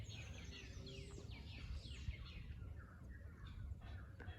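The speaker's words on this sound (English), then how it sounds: "There are so many birds out here." Many birds chirping and calling outdoors in Guatemala, a dense overlapping chorus of short tweets at moderate distance over steady low rumbling background noise.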